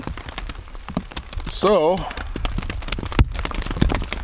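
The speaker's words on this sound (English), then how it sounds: "Hear the rain? It's been absolutely pouring now for about 12 hours." Heavy rain pours steadily on a tent at a canoe campsite, a dense, constant patter filling the whole stretch while a voice speaks briefly over it.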